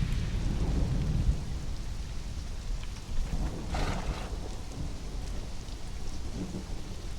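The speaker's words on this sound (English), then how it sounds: "The sounds, I mean the sound of the rain. Thunder is great." Heavy rain pours steadily in the Conan Exiles video game, with a loud, rumbling crack of thunder rolling in around the middle and fading back into the constant downpour.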